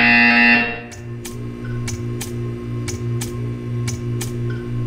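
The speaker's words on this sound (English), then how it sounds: "You will hear a buzzer." A buzzer in the video game Portal 2 sounds as a steady run of evenly spaced pulses, about eight in a row, after a louder tone fades out at the start, all over a low electronic hum.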